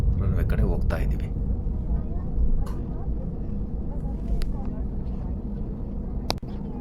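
Inside the cabin of a passenger airliner taxiing toward the runway for a flight to Goa, a steady low engine rumble and broadband roar continue throughout, with a few brief clicks and knocks.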